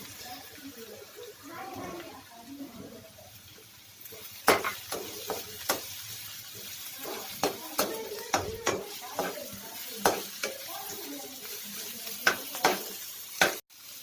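Ginger for Gobi Manchurian being sautéed in a pan, a soft sizzle broken by sharp, repeated knocks and scrapes of a spoon against the pan, with a voice talking over part of it.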